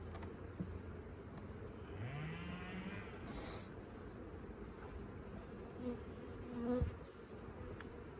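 Honey bees buzz around a beehive in a steady, dense drone, with a few brief louder passes close by.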